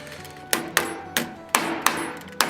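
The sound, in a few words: ball peen hammer striking brass rivets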